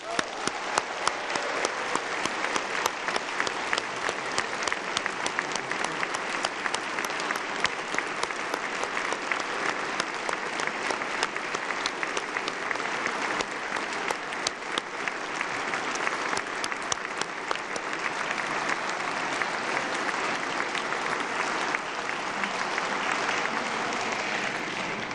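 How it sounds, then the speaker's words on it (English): Sustained applause from the audience at the 2020 West Virginia State of the State Address, dense steady clapping filling the hall for a long stretch without letting up. "please, let's all cheer in every way, shape, form, or fashion for that anniversary."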